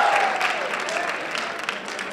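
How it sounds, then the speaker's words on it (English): A high school class gives a round of applause for a visiting professional women's basketball player, a dense, steady clapping from a room full of people lasting the whole stretch. "Let's give her a round of applause for coming today."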